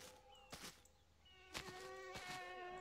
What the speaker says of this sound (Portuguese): E essa mosca dos infernos pra me incomodar ainda,